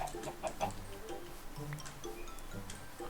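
A Minecraft chicken clucks in a few short, quiet bursts, mixed with faint ticking game sounds and low background noise during hardcore survival play.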